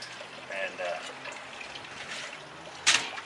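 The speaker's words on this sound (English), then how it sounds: "we're going to hit it with dechlorinated water" Dechlorinated water splashes and trickles over a dirty Marineland aquarium filter held in a sink, soft uneven rinsing in short bursts, ending with a sharper, louder splash near the end.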